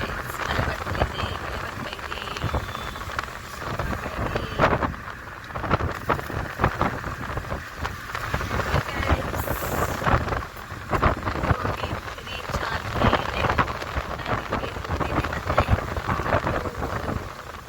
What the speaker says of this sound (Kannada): ಸ್ವಲ್ಪ ಸ್ವಲ್ಪ ಹನಿ ಮಳೆ ಬರ್ತಾ ಇದೆ